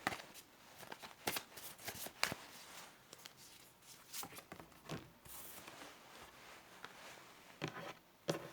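Angel tarot cards are shuffled and drawn close to the microphone, giving faint, soft card riffles with sharp individual snaps and flicks scattered irregularly through a quiet room.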